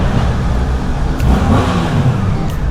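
A Suzuki GSX-8S motorcycle engine (82 hp) accelerates, heard as a loud, close, smooth and muffled mid-range engine drone under steady wind rush, with no speech.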